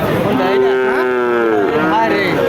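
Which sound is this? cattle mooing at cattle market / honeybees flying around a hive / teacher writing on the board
cattle mooing at cattle market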